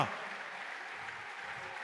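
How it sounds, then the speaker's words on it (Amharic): A church congregation at a prophetic service breaks into applause and ululation, a dense, even wash of clapping and high trilling held at a moderate, somewhat distant level for a couple of seconds. "ለአምላካችን እልልታ ጭብጨባ"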